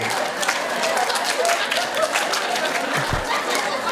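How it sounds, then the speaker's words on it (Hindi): A group of children clap steadily together during a classroom-style clapping game, a dense continuous patter of many hands with faint chatter mixed in. "टॉम ताली बजाएंगे और जेरी रोकेंगे।"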